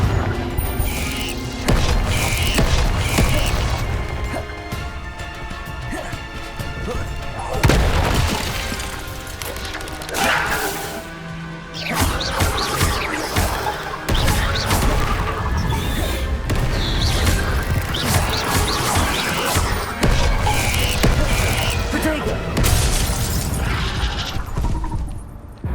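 Confringo blasting curse explosions in the Hogwarts Legacy video game, a series of loud booms and crashing blasts recurring every few seconds amid continuous battle noise.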